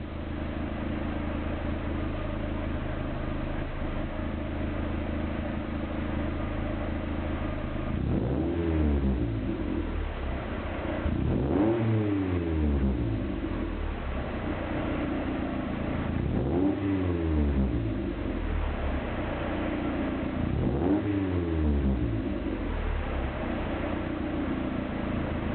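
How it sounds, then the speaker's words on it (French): A Mazda MX-5 fitted with a new Cobalt exhaust idles steadily, then is revved in four distinct blips toward 2000 and 3000 rpm. Each rev rises and falls sharply, loud and close, with no talking. "on va faire un petit relevé à chaud jusqu'à 3000 tours. On va faire 2000 et 3000."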